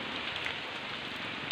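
Heavy rain on a road trip in Bulacan, a dense, even hiss of downpour pattering steadily on surfaces, close and continuous with no voices.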